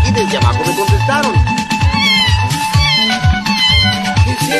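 Cat meowing at night, a string of rising and falling yowls over a busy, rhythmic low background that carries on throughout.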